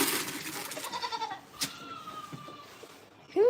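A young goat kid on a small farm bleats loudly in repeated calls, with a sharp, high final bleat standing out near the end, close to the listener amid quiet barnyard background.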